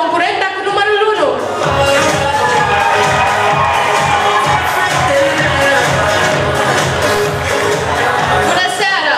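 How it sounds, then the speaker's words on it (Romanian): Loud crowd cheering and applause ring out for a contestant at a school freshman pageant, a dense sustained roar of voices and clapping that swells and holds for several seconds with shouts mixed in. "Aplauze, vă rog, pentru concurenta cu numărul 1!"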